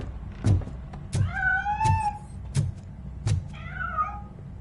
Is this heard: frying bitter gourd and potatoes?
no